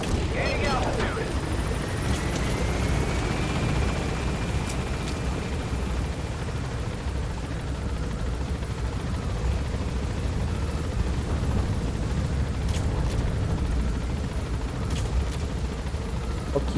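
Helicopter from the game Metal Gear Solid V, a steady dense rotor and engine roar that fills the whole stretch, loud and close, with occasional sharp bursts of gunfire and booms over it and a voice talking underneath.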